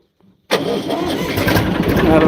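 A large tractor diesel engine cranks and catches abruptly after a brief faint noise, then runs loud and rough, idling steadily close by.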